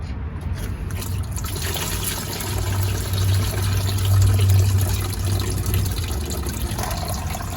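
Coolant flushes steadily out of a Ford F-series truck radiator during a radiator replacement, a loud, continuous close-up gush of liquid that swells slightly in the middle.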